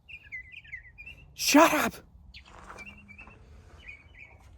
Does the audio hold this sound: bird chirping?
yes